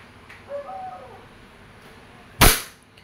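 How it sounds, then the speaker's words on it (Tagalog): A single sharp, loud shot from an E&C airsoft Glock 17 Gen 5 pistol near the end, with faint bird-like chirps and quiet room tone earlier. "Glock 17 Gen 5 by ENC airsoft. Firing"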